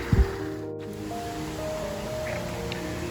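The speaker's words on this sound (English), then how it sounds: "This is our yard, which is a river right now." Storm runoff water flowing in a steady broad wash through a flooded yard about an hour and a half after a storm, with a faint tonal hum underneath and a brief knock near the start.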